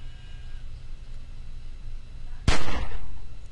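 A single gunshot in The Walking Dead: 400 Days game, one sharp loud crack after a quiet low rumble, with a short ringing tail and lingering noise afterward.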